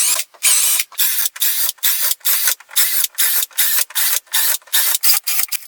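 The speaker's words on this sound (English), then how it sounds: "Now I enlarge the holes in the round piece." Holes in a round piece of tropical hardwood from a garden tabletop are enlarged with a power tool, producing a series of bright, harsh grinding bursts separated by brief pauses, loud and close.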